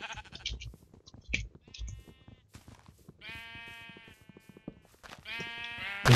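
Several Minecraft sheep bleat in bursts, some stacked and overlapping, over a busy backdrop of clicks and game sound effects.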